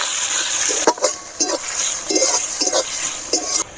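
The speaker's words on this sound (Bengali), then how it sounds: "পেঁয়াজটাকে ভালো করে লাল করে ভাজতে হবে" Chopped onions fry in hot oil in a kadai with sugar, bay leaf and whole garam masala, giving a steady sizzle broken by repeated scraping strokes from stirring.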